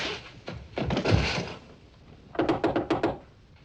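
Knocking on a door: a few heavy thuds, then a quick series of five or six sharp raps on wood, close and clear with no talk.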